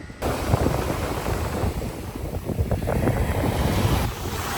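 Ocean waves roll in at a Miami beach, a loud continuous rush of surf mixed with wind noise on the microphone and no talking.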